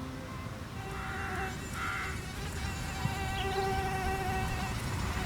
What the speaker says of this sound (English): the now contaminated mosquito flies out of the station